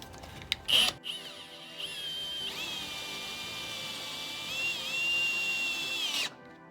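Power drill driving screws to fit brackets for a low point drain modification on a Grand Design RV: a brief burst, then a steady whirring run of about four seconds that rises slightly in pitch before stopping, fairly close.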